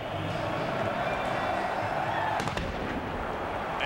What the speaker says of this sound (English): As the cannon goes off,